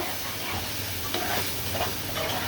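Onions and spices with a little garlic sautéing in plenty of oil, a steady close sizzle with soft stirring scrapes, no voices.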